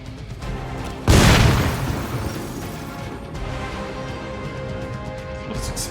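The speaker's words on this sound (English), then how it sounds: "What's exploding back there?" A single loud explosion bursts out in the video game Marvel's Midnight Suns, then decays into a lingering rumble under ongoing game ambience.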